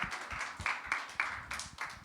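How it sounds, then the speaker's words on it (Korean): A high-school church congregation claps in a quick, fairly quiet rhythm of distinct hand claps, sharp individual strikes repeating over about two seconds. "박수로 마치겠습니다."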